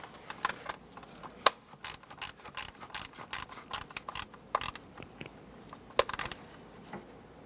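A ratchet clicks in quick, uneven bursts of sharp ticks while tightening knock sensor bolts on a Chevrolet Express 3500 van engine, close and moderately quiet.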